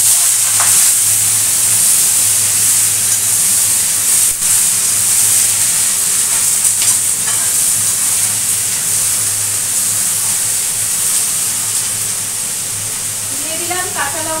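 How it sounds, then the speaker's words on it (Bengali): Finely chopped ash gourd fries in a pan after a tempering of bay leaf and cumin, a continuous loud hiss and sizzle with occasional stirring clatter, and a voice speaks over it. "চাল কুমড়ো কুচি কুচি করে কেটে নিয়েছি, ওই ভাজা ভাজা করব"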